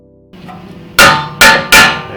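Three sharp metallic hammer strikes on a corroded rear brake rotor of a BMW F30 ring out in quick succession after a quiet moment, each loud and close with a short ringing decay.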